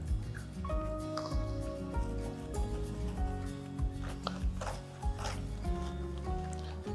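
Wheel and body brush scrubbing the soapy grille of a Mercedes G-Wagon, a quiet wet squishing and rubbing in quick repeated strokes, close and continuous with no talk.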